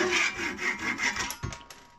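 A Japanese Ryoba pull saw from Kaufland cuts through wood in close, steady rasping strokes that fade toward the end, finishing with a few sharper cracks as the cut breaks free.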